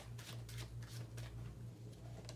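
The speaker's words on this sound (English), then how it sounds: "Cards don't want to shuffle." Tarot cards are shuffled in soft, close riffling bursts, quiet and intermittent over a low steady hum.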